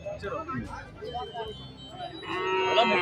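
Calves and cattle at the Seenapuram cattle market moo near and loud in several short calls. The lowing overlaps with people talking and general market noise.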